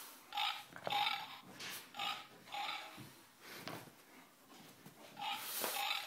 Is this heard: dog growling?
yes